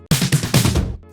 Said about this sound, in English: add a pre-drop fill that sort of sounds like this